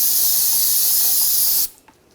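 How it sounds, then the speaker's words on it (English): Brake parts cleaner sprayed onto the rear brake of a 2000-2006 BMW X5, a loud continuous close hiss lasting under two seconds before cutting off abruptly. "take some brake parts cleaner and just clean up any of the residual."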